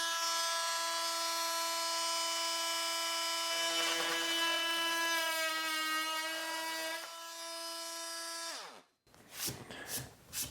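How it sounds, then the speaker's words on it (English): Milwaukee M12 oscillating multi tool, the newer model, skipping and chattering as its blade makes a plunge cut, a loud steady high-pitched whine with harmonics that drops in pitch and cuts out near the end, followed by brief handling noise. "you get that skip right off the hop because the blade is traveling back and forth quite a bit faster and it wants to skip around"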